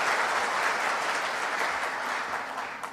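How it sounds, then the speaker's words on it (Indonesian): Sustained applause fills a ministerial meeting room, a dense, steady wash of many hands clapping at once, fading only slightly toward the end. "Mungkin perlu diberikan tepuk tangan untuk semuanya."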